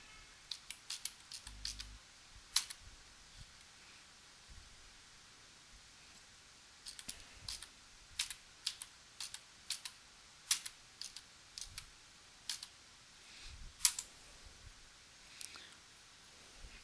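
Computer keyboard typing, scattered light key clicks in short irregular bursts with quiet gaps between, close and faint, with no talking.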